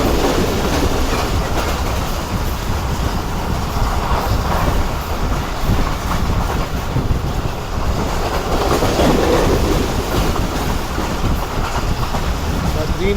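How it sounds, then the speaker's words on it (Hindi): The Jaffer Express races at high speed, giving a loud continuous roar of wheels and a rushing rumble with rhythmic rail clatter that never lets up. "बदरीन भाई बहुत कमाल के स्पीड में ट्रेन ने स्किप किया है देवना जलियानी को।"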